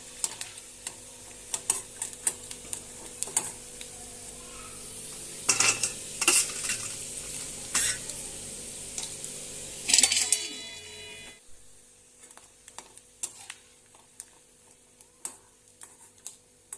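Sabudana chakli frying in hot oil, a soft, close sizzle with intermittent clinks and scrapes of a utensil, swelling briefly louder as pieces are turned, then settling into quieter bubbling.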